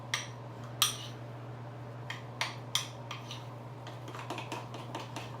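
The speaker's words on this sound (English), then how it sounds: "I've got 2 spoons. I like to mash my color in as opposed to vigorously stirring it all the time." Two spoons mash food coloring into frosting in a bowl, giving scattered soft clinks and scrapes at an irregular pace, faint and close, with no talking.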